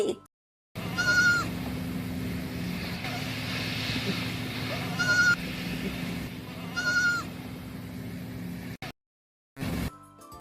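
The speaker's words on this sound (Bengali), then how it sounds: "ছয় ছাগল ছানা লাফিয়ে চলে।" Young goats bleat three separate times, each a short wavering cry spaced a few seconds apart over a low rumbling background.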